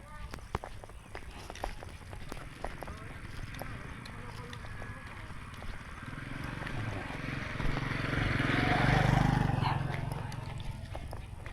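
Jet skis pass by on water, their engine drone swelling from faint to moderate and peaking before fading, beneath a speaking voice and nearby footsteps.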